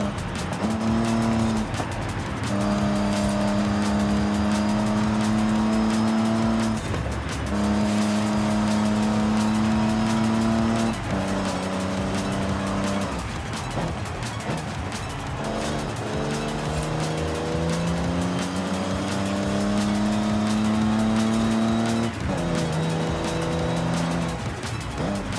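Race car engines in the Forza Horizon 5 driving game, with a Bentley nearby, scream through repeated gear changes, rising and dropping in pitch amid tire squeal, loud and continuous throughout.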